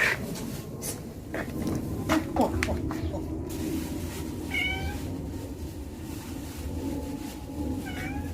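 Cats meow several times in short, rising calls at a home where they are fed, mid-distance over a steady background hum with scattered clicks and knocks.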